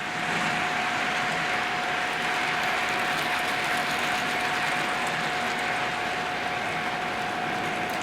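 A Triang 9F model locomotive with a tender-driven motor starts up gently and runs with a steady mechanical whirr and a thin constant whine, close and unbroken, with no talk.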